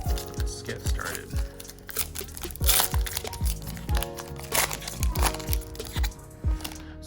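A foil pack of 2020-21 Panini Mosaic La Liga soccer cards is torn open by hand, giving close, repeated crinkling and crunching bursts in an uneven rhythm.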